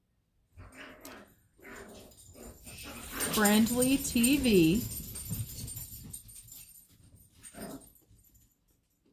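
Dogs whimpering and giving short barks and whines, with high wavering cries mid-clip, mixed with a person talking nearby.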